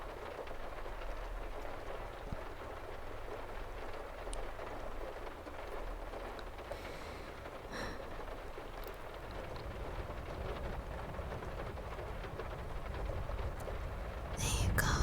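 Rain drums steadily outside a car during a thunderstorm, heard from inside the cabin as a low muffled rumble and wash, with a few faint clicks and a louder swell at the end.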